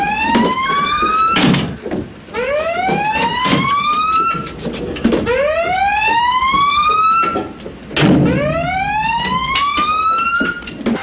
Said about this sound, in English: Crash dive. Sound collision alarm.